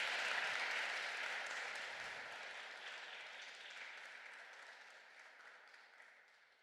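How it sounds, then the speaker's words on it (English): Conference audience applause, dense clapping from many hands that starts fairly full and slowly fades over several seconds, with no talk over it. "I will also ask all of you here to do a big applause to the team of the"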